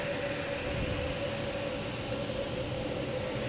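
Airliner jet engines spool up at Logan Airport with a loud, steady roar and a sustained whine on top, constant and close for the whole stretch.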